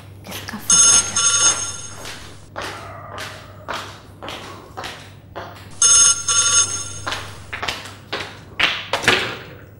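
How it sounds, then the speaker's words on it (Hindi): A telephone rings in two long trilling bursts, loud and close, with knocks and thumps of movement between the rings. "किसका फोन आ गया?"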